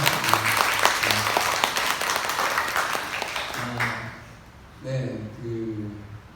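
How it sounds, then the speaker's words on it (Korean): Church congregation applauding during a Sunday morning service to welcome a visiting pastor couple. Steady applause fills the first four seconds while someone speaks over it, then it fades and his amplified voice continues. "박수로 한번 환영해 주시면 감사하겠습니다."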